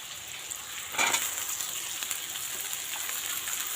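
Jackfruit seeds frying and being stirred in a pan, a soft continuous sizzle with a brief scraping burst early on, heard up close and alone.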